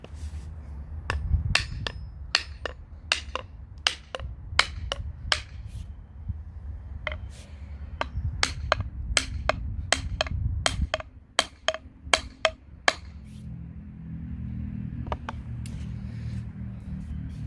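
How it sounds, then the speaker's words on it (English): Sharp wooden knocks as an axe handle is struck down to seat the head, repeating in uneven bursts, some quick doubles, over a low rumbling background; a steady hammering rhythm that pauses briefly then resumes. "you're going to hold the handle of the axe and hit down"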